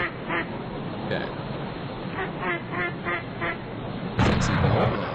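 A cartoon duck quacks over and over in The Impossible Quiz video game, a string of nasal quacks over a busy game background that ends in a louder, denser burst.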